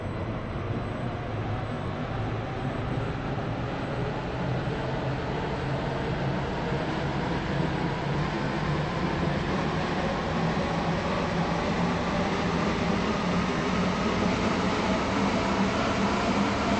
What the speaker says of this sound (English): This train is now approaching Airport Terminal 1.